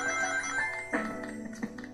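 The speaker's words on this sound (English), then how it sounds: "I sure love the sound of those rings." Bright, bell-like ring-collecting chimes from Sonic Unleashed sound in a quick cluster over a steady tonal background, moderately loud.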